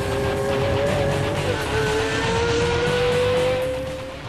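A Pagani Zonda sports car on the Nordschleife, loud and close, with a sustained high engine howl that climbs in pitch, dips briefly at a shift, then climbs again before easing off at the end.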